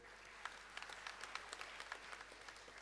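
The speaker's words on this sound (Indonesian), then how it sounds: "Tepuk tangan." A church congregation claps in a faint, thin patter of scattered hand claps, distant and quiet, with individual claps standing out irregularly over the low murmur of the room.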